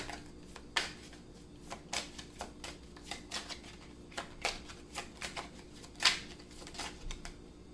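Tarot cards shuffled and drawn, heard as a series of crisp, quiet snaps and flicks at an uneven rhythm, close by and with no voices.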